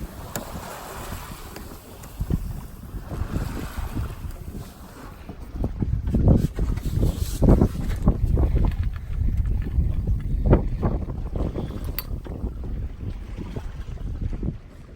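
Steady wind rushes over the microphone aboard a sailboat beating upwind off Lahaina, with water washing against the hull and low buffeting gusts that swell louder midway through, and no one speaking.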